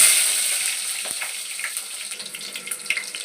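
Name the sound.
onions frying in hot oil for biryani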